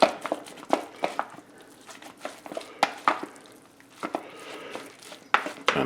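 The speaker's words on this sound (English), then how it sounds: "we're going to stir this, incorporate the onions into the mixture" Spoon working chopped onions into a raw ground lamb burger mixture in a bowl, giving a run of close, irregular soft scraping and clacking strokes with brief pauses, no talking.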